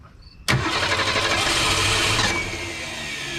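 A 1961 Ford Falcon delivery's engine cranks and fires at once, then runs loud and close in a steady rumble that eases slightly after a couple of seconds.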